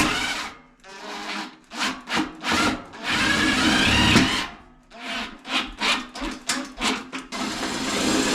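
A power drill drives a screw into a camp wood stove build, a series of short whirring bursts that rise and stop in an uneven rhythm, close and clear with no talk.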